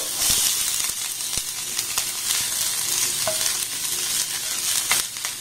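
A small chopped onion fries in hot oil, producing a steady, close sizzle with occasional stirring scrapes and light ticks throughout.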